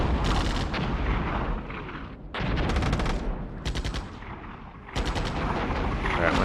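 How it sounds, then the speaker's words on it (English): Repeated artillery blasts in the war game Armored Brigade 2 arrive in heavy bursts, several loud impacts and rumbling barrages separated by short lulls, with no talking. "we could drop some artillery on them"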